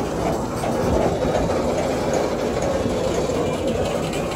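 A loaded freight train hauled by a GT26 locomotive rolls past in Argentina, a loud steady rumble of wagons with rail clatter that persists throughout, close by, with no one speaking.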